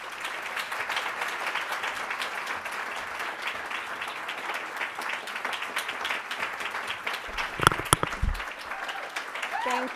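An audience applauds steadily for the full ten seconds as Senator Davis is welcomed onstage, a dense, even wash of clapping with a few sharper claps near the end.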